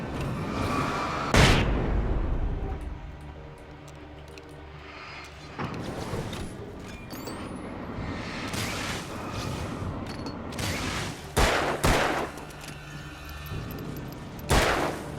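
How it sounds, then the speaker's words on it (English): Flash grenade blasts and weapon fire in the video game Alan Wake, loud sharp bangs at intervals with mechanical clatter between, no talk. "Actually, flash grenade,"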